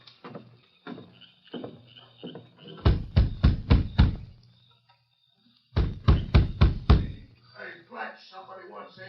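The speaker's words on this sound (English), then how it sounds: "Now, you knock on the door." Door knocking as a radio drama sound effect, two loud clusters of five sharp, evenly spaced raps, close and prominent, with voices speaking before, between and after them.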